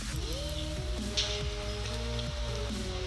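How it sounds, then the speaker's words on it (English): Rain falls in the video game Minecraft as a steady even patter, heard alongside layered tonal game music and with no talking. "Why is it raining?"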